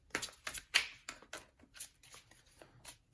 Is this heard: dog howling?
no